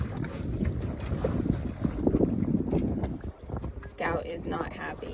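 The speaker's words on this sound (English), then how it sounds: "Got 10 or 12 knots of wind." Wind of 10 to 12 knots rushing past while sailing a sailboat in whitecap conditions, a loud, gusty roar buffeting the microphone with water sloshing near the hull.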